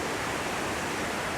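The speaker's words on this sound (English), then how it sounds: "Here's the main waterfall here, and then over here there's a little side waterfall." Waterfall at Rosewall Creek on Vancouver Island running high with heavy flow, a soft, even, continuous roar heard from a moderate distance, without speech.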